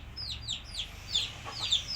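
Domestic desi hens kept in a small backyard flock cluck in short, repeated calls, several birds overlapping at close range over a steady low background hum.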